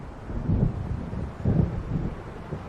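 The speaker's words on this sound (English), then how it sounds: "It seems there's a storm coming." Storm noise from the game Alan Wake Remastered, with wind rushing over open water and low thunder rolling in a few deep swells, steady and distant.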